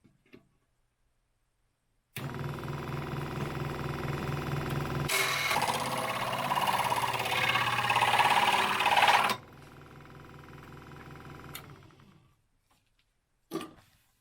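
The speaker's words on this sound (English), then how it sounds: "I'm going to use the scroll saw" A scroll saw cuts Kydex sheet for a wallet, a loud, steady buzzing chatter of the reciprocating blade that runs continuously for several seconds, then shifts to a lighter motor hum before stopping, followed by a brief click.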